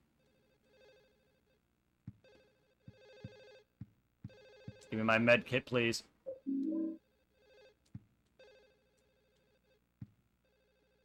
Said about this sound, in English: There's a phone ringing somewhere.